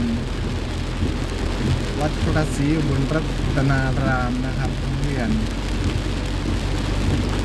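Steady rain falls around a school on temple grounds in Thailand as a broad hiss that runs the whole time, with someone talking over it throughout.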